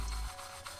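A fish fillet is pressed and tossed by hand in panko breadcrumbs, giving a short, soft, close rubbing and scraping rustle.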